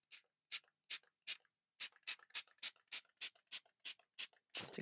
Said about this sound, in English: And I am going to spray this a little bit.